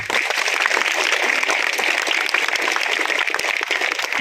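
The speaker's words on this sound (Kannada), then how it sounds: "ಚಪ್ಪಾಳೆ ಹೊಡಿಬೇಕು ತಾನೆ ನೀವು?" A crowd applauds steadily and fairly loudly at a welcome for a constitution awareness rally at a village panchayat centre, the clapping sustained as a dense, even wash.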